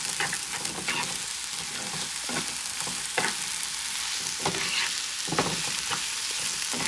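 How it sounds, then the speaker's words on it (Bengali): Vegetables for an arum root curry sizzle in a pan, a soft continuous hiss broken by repeated scraping stirs at a moderate, irregular pace. "এগুলো একটু হালকা ভাজা ভাজা করলাম"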